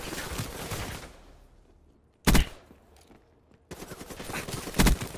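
Gunfire in a video game: a loud broadband burst of shots near the start, a sharp single blast in the middle after a lull, then another sustained volley with a strong shot near the end, no talk.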